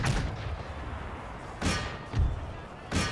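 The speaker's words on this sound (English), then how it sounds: "Oh, the main battery is now firing." Artillery battery cannons firing on a Napoleonic-era battlefield in Empire Total War, heard as about four booming thuds spaced roughly a second apart over a steady wash of battle ambience.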